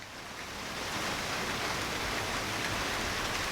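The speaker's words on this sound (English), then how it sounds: "So right now, ton of rain." Heavy rain pours steadily, a dense, even hiss that swells slightly at the start and then holds constant with no voices.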